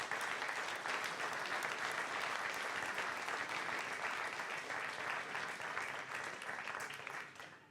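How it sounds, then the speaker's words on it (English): Continuous audience applause at a business town hall with Maxime Bernier holds steady for several seconds, then tapers off near the end. "Let's give them a great round of applause"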